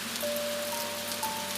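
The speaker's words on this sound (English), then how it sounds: "The rain must be constant, stable, and calming throughout." Steady rain pattering on a surface on a calm Tokyo night, a soft even hiss with no breaks, faint and continuous, with a thin tonal hum beneath.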